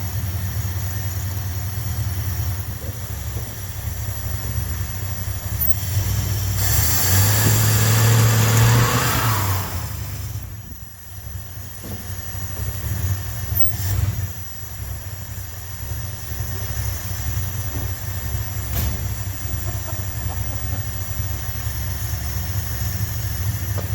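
A Mopar 318 V8 with a newly fitted BBD carburetor, idling with a low rumble, then revving hard in a loud rising roar under acceleration before settling back to a steady, slightly lumpy idle, close by with no talk.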